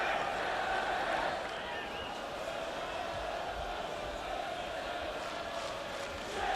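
Football stadium crowd at a Manchester City versus Manchester United match, a dense, continuous roar of thousands of fans that stays steady throughout, with chanting voices blended into the wash of noise.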